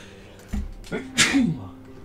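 A single sharp sneeze bursts out after a short inhaled buildup, close and loud, followed by a brief vocal trailing sound.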